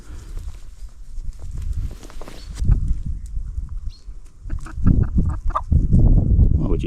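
Backyard hens peck and cluck softly while eating chickweed, with scratchy pecking taps and low murmuring clucks close by, growing busier toward the end.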